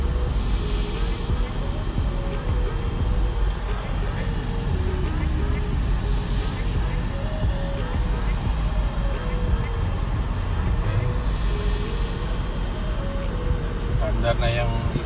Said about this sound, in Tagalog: alis na yung fuel truck.